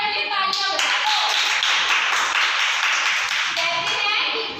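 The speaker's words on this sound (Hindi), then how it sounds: "पहले तालियां बजा दो" Audience clapping at a school street play, steady close applause from a group of young people with a faint voice over it, fading near the end.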